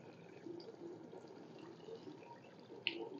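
Distilled water rinsing a stained microscope slide, a faint continuous trickle with small drips and a brief splash near the end.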